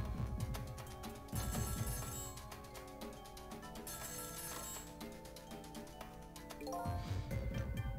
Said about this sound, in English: The phone's been ringing off the hook from headquarters.